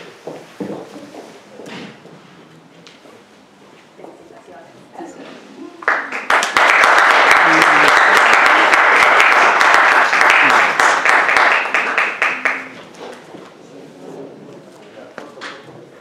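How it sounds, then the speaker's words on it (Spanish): A church congregation applauds loudly for a sister at the close of a worship service, a dense burst of clapping lasting about seven seconds that swells and then fades back into quieter room sound. "Por favor, otro fuerte aplauso para la hermana."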